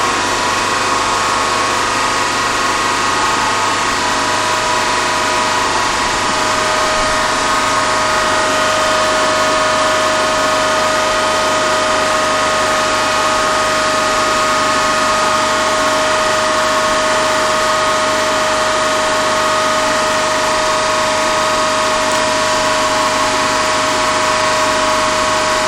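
The prime mover of an alternator runs at a constant speed of about 1500 rpm, producing a steady, unbroken mechanical hum with a fixed tone that holds level for the whole stretch, with no voices.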